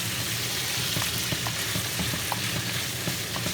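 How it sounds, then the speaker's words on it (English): Bacon and onion sizzle and crackle steadily in a frying pan, with small pops and the occasional scrape of stirring close by, and no one talking. "So we're just cooking that bacon and that onion"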